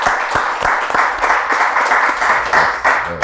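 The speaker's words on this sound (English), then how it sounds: "Give a hand clap for that, man." An audience claps for a band and singers in a lively burst of close, individually distinct handclaps with an uneven rhythm, loud and near, running on without any talk over it.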